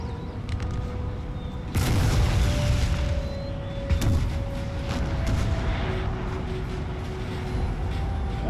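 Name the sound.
cannon artillery fire in a Napoleonic war video game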